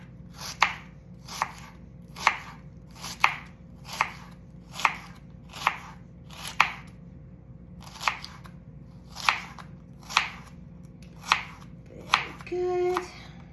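A knife cuts a rubbery cabbage into thin slices, with crisp, evenly paced cuts close by. A brief rustle follows near the end, and nobody talks.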